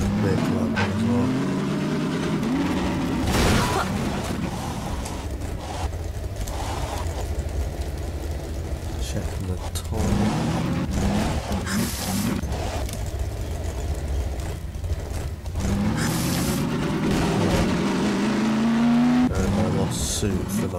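A turbo-equipped car in the Half-Life 2 Episode 2 video game revs and drives, its engine rising and falling in pitch with tire squeals, while a person talks over it at intervals.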